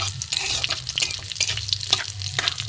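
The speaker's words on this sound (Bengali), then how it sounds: "ফোড়নটা একটু ভাজা ভাজা হোক" Whole cumin, a dried red chilli and a bay leaf frying in hot mustard oil as a tempering, a close, crackling sizzle with repeated stirring scrapes and light pops.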